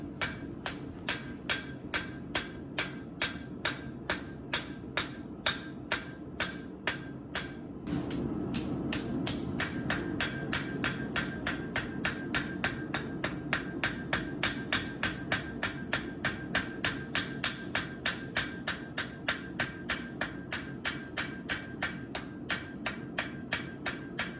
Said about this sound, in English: I will then hammer in the bevels on the lower half or on the belly of the knife